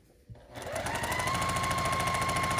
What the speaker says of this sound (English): I'm gonna sew those together too